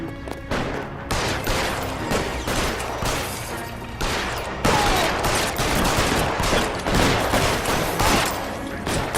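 Rapid bursts of gunfire from the video game L.A. Noire, dense volleys of shots rattling almost continuously for several seconds at a loud, steady level with no voices.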